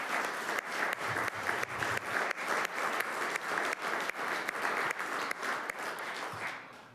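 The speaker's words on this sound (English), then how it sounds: "a round of applause for winning that championship" An audience at a St Catharines city council meeting gives steady, even applause for a provincial championship baseball team, sustained for several seconds before tapering off.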